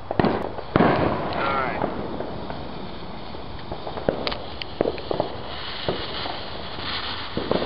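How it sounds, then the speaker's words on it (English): Chinese firecrackers pop and crackle in rapid bursts at a Fourth of July celebration, some loud and close, others more scattered, with voices faintly in the mix. "We celebrate with Chinese firecrackers."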